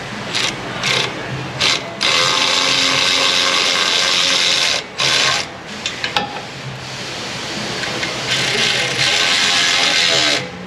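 Ratchet tightening exhaust header bolts on a Ram 1500 5.7 with BBK shorty headers, its loud, close, rapid clicking running in long bursts with brief pauses between strokes.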